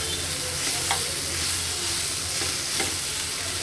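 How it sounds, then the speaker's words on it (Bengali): Leafy greens tossed in a pan with a spoon of oil give a dense, loud, continuous hiss of frying with a couple of faint stirring scrapes, close up and without speech. "শাকগুলো দেওয়ার পরে প্রায় 1 মিনিটের মতন একটু নাড়াচাড়া করব।"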